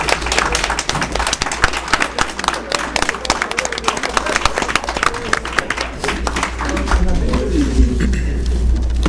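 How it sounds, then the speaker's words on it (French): An audience at a handover ceremony applauds the transition team with steady, dense clapping that continues for several seconds, a crowd-wide wash of claps with some voices mixed in. "j'aimerais quand même qu'on applaudisse très fort l'équipe de la"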